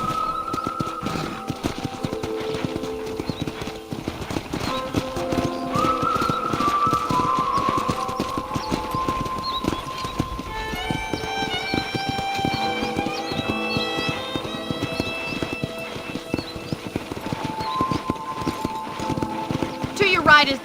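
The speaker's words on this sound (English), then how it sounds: "let's see if you can still ride a horse." Horse hooves clip-clop steadily through a ride in the Western video game Red Dead Redemption, a continuous rhythmic trot under in-game dialogue and music.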